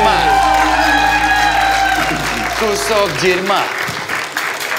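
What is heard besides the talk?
audience applause and cheering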